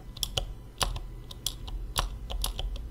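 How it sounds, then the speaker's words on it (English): Sharp, rapid clicks of Cherry MX Green mechanical keyboard switches being pressed in a test bed, close and distinct, arriving in an uneven typing rhythm of a dozen or so keystrokes. "you can hear that clicking noise"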